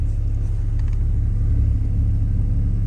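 A 2019–2024 Toyota Corolla engine idling in gear with a bad engine mount, a steady low rumble and vibration, close and continuous, with no talking.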